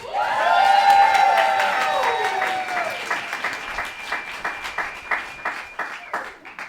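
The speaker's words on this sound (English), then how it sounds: "Can we give a round of applause for our host, Jay?" An improv comedy show audience bursts into applause with some cheering; a sustained tone fades away early on, leaving steady clapping that tapers off toward the end.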